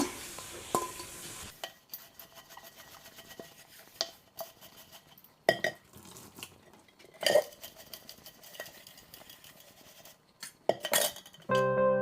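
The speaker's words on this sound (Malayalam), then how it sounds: "ഞാൻ പാത്രങ്ങളൊക്കെ ഒന്ന് കഴുകി വെക്കട്ടെ" Dishes and vessels washed by hand: intermittent clinks and clatters of steel pots, plates and cutlery knocking together, separated by quiet pauses, close and fairly faint.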